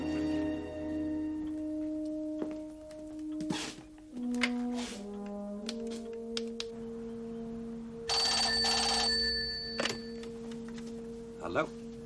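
A telephone bell rings in a home scene from a 1987 TV film: a burst of bright ringing partway through, set over sustained tonal background sound, with no voices over it.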